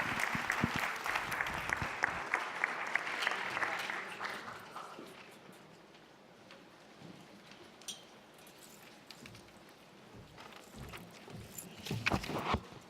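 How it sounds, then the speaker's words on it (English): Applause from an audience at a recorded gathering starts fairly full, thins into scattered claps and background noise, then swells again near the end. The sound stays fairly faint and distant throughout. "Another round of applause."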